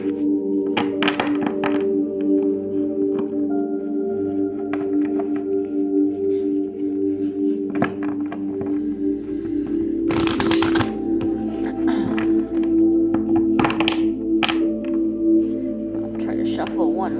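Tarot cards shuffled by hand during a card reading, giving repeated soft riffling and tapping bursts, with a thunk of the deck here and there, under steady low background music and talk.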